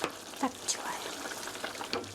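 Tomato sauce for spaghetti sizzles in a pan under a few light scraping stirs and small clinks, a short close burst with no talking.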